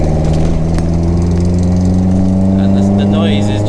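Idling four-cylinder 2 litre 16 valve engine in a classic Lotus Elan Plus 2S Zetec restomod, a steady loud low rumble with even harmonic throb, while a person talks over it.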